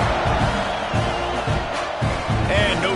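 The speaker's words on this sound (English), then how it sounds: "this crowd is feeling themselves after that last drive" A stadium crowd in the College Football 26 video game roars and cheers steadily after a scoring drive, a dense continuous wash of noise under a commentator's voice.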